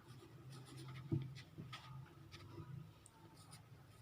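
A sentence being written by hand, with soft, quiet scratches and taps of the writing tool on paper coming in short bursts, heard close with no talk.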